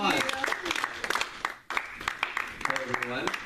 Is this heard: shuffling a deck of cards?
no